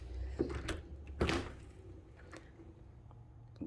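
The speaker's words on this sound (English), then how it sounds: "this is the entry door for when this was a separate apartment" An apartment entry door opens close by with a latch click and a thud, followed by a short creak and quieter rattling.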